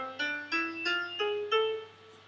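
A harmonic minor scale played as about five clear, evenly spaced notes stepping upward one by one, each ringing briefly before the next, soft and alone.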